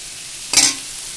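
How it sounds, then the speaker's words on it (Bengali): A spoon gently stirs lotte fish cooking in a pan, making a single short scrape over a faint, steady background sizzle. "আমি আস্তে আস্তে করে দেখো নাড়ছি"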